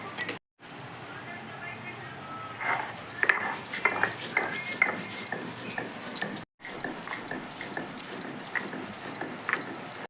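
Cumin and dried red chillies ground by hand on a village grinding stone, a steady run of gritty rubbing and scraping strokes with light knocks, close up, with a short pause partway through.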